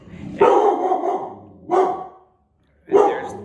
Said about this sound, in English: There's Kylie barking.